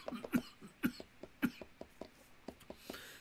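Harsh, repeated coughing after taking a cannabis dab, a close series of a dozen or so hacking bursts that come quickly at first, then thin out and soften.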